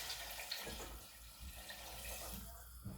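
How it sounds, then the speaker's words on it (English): Heated vegetable stock and water poured into a pot of vegetables for a coconut, kale and green pea soup, giving a steady close splashing pour that runs the whole way with no talking. "Pour all of it in."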